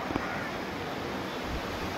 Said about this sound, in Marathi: खूप सोसाट्याचा असा वारा सुटलेला आहे